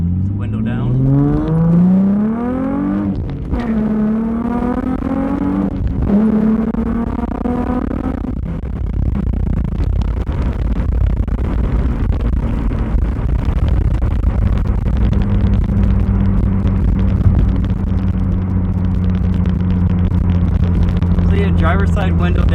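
A car fitted with a Flashark Racing Y-pipe exhaust drones steadily while being driven, a continuous low rumble with a few rising and falling engine pitch sweeps early on, heard from inside the cabin beneath a voice.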